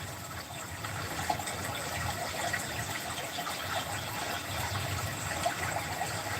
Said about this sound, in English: I got sound effects in the background. Does anybody hear the water?